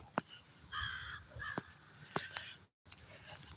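Crows in a tree caw several times in a row, harsh nasal calls with sharp clicks in between, fairly close and clear over a quiet outdoor background, with a brief dropout near the end.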